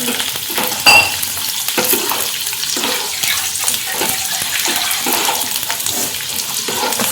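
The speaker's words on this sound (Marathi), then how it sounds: "लसूण घालायचा आता याच्यात लसूण आपण व्यवस्थित भाजून घेऊया" Garlic roasting in hot oil in a pan for garlic bread, giving a continuous close sizzle and crackle, with one sharper knock early on and no talking.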